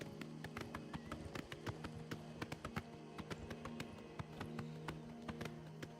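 Horse hooves clip-clopping at a steady, quick riding rhythm in the video game Oblivion Remastered, with sharp regular hoof strikes over a low droning game background.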